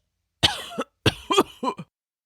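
A rough, rasping cough in two or three harsh bursts, close and loud, with brief pauses between them.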